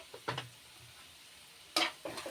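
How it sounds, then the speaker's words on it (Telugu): Chicken frying in a pan with salt, cumin powder and coriander powder gives a soft steady sizzle, broken by a few scraping stirs of a spatula against the pan, close and fairly quiet. "ఇంకా బాగా ఫ్రై ఇలా మిక్స్ చేసేసిన తర్వాత"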